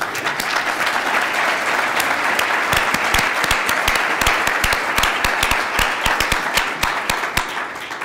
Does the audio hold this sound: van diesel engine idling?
no